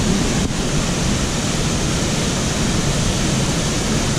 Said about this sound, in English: So this is Horsetail Falls.